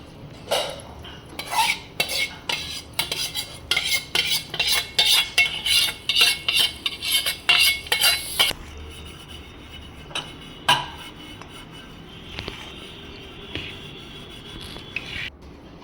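A spoon stirs jaggery and ghee into crushed muthiya for laddu, knocking and scraping rhythmically against a metal bowl for several seconds before quieter stirring follows, close and alone.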